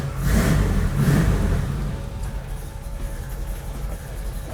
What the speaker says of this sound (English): you can hear a little bit of lope of the cam